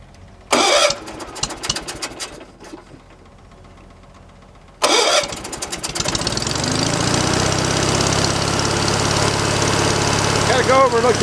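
A wood splitter's engine cranks and fires with two bursts near 0.5 and 5 s, then settles into a steady, loud idle that runs on to the end, with no talk over it.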